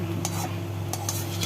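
Rice noodles stirred together with other ingredients in a pan, giving soft scraping strokes from a utensil at a few irregular points over a steady low background hum.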